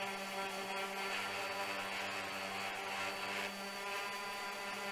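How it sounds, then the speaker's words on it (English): Steady, continuous abrasive hiss of wood being sanded on a door, a constant dense whir with a faint underlying hum and no pauses, moderately quiet throughout. "Now I'm sanding everything down."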